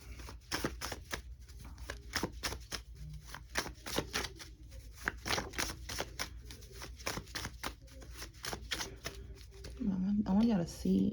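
Tarot cards are shuffled in a rapid, crisp series of riffling flicks and slaps, close and fairly quiet, with a few softer handling sounds and a brief murmur near the end.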